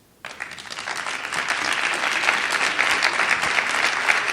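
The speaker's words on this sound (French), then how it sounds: "Merci pour vos applaudissements." Audience applause breaks out at the end of a French lecture on university admissions, a dense wash of clapping that starts abruptly and holds steady, fairly loud and sustained.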